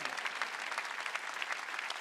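Steady applause from a church congregation at a Christmas Sunday service, many hands clapping together in a dense, continuous patter that holds at an even level throughout.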